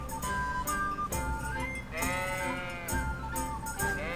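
Sheep bleat repeatedly in the medieval role-playing game Kingdom Come: Deliverance, several overlapping calls from a nearby flock over continuous ambient game sound, with no talk.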